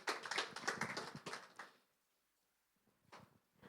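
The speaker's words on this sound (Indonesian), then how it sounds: "Terima kasih, tepuk tangan dulu." Applause from a church congregation at a Sunday worship service, a dense burst of clapping for under two seconds that quickly dies away, then a short faint patter near the end.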